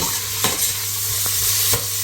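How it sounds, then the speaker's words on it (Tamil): Turmeric and cumin powder sizzle steadily as they are stirred and sautéed in a frying pan for Arabian chicken kabsa biryani. A few sharp scrapes of the spoon stand out over the constant hiss. "அது அப்படியே இதோட சேர்த்து வதக்கி விட்டுற வேண்டியதுதான்."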